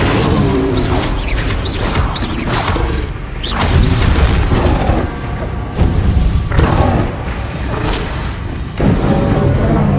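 Bombarda blasting spell explosions in Hogwarts Legacy, a series of loud booming blasts and crashes repeating every second or two over continuous combat noise.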